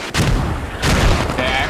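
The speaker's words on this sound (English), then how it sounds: "These mortars, I need to get away from these mortars." Mortar rounds landing in the Squad military shooter, heavy booming impacts in quick succession, loud and close, each with a rumbling tail.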